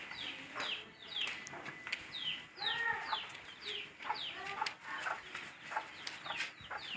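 Chickens clucking while being fed in hot weather, a busy close flock with repeated short clucks and calls overlapping through the whole stretch, with no speech.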